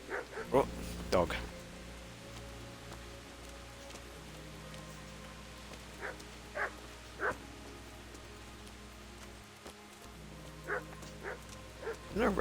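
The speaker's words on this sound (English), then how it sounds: "Oh, dog." A dog barks in a medieval town square in the video game Kingdom Come: Deliverance, several short barks spread through the scene over steady rain-like ambience, with voices talking over it.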